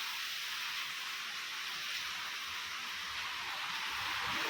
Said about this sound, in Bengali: যাই হোক প্রচুর পরিমাণ বৃষ্টি হইতেছে